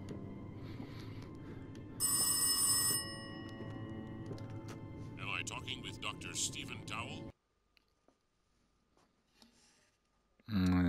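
Telephone ringing in the Rise of Insanity VR horror game: a bright, insistent electronic ring bursts out loudly for about a second mid-clip over a low game ambience, then the scene drops to near silence before another loud sound cuts in.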